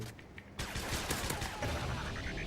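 Rapid automatic gunfire from a machine gun in a video game, dense sustained bursts filling the clip at close range, with faint voices underneath.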